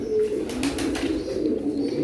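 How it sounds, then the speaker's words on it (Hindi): Pigeon cooing close by, soft repeated low throaty coos rolling over a steady background murmur, with no talking. "ये एक मगर कबूतर है, बहुत ही अच्छा कबूतर है"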